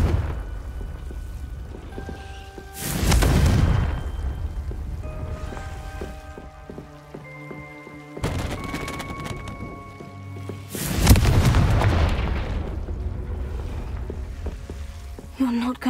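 Confringo explosive spells blast in the Hogwarts Legacy game, two loud booming impacts near 3 and 11 seconds, each with a crackling, rain-like tail, over quiet ambient music.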